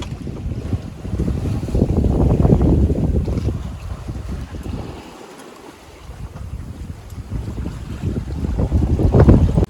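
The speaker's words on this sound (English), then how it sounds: "I just saw 27 knots of wind." Strong 27-knot wind roars over a solo sailboat at sea in squally weather, a loud buffeting rumble with wind noise that eases briefly mid-way then builds again, no talk.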